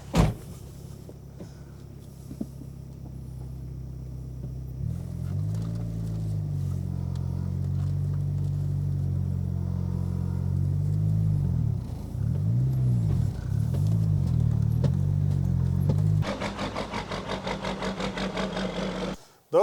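A Dodge car engine, about eight years old, rumbles low and steady for a long stretch, its pitch swelling and dipping as it drives, ending with a brief harsher buzz.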